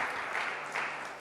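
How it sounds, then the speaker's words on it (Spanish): A church congregation applauds during a Spanish-language service, a dense burst of clapping from many hands that stays steady for about a second, with no talking. "Demos el aplauso al Eterno"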